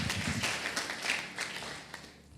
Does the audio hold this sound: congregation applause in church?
yes